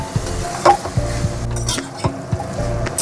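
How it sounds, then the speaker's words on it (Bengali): Spice-marinated chicken sautéed in a pan over a high gas flame, with steady sizzling broken by repeated scraping stir strokes and a few light utensil knocks, close and fairly loud, no talking. "গ্যাসের ফ্লেমটা হাই করে বন্ধুরা আমি কিছুক্ষণ মাংসটা কষিয়ে নেব"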